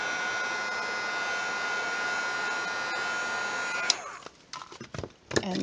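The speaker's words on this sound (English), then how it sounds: "Just take your heat gun and heat it up just a little bit at a time." A heat gun blows steadily and loudly on the glue inside a shoe for about four seconds, then cuts off, leaving brief handling clatter and scrapes.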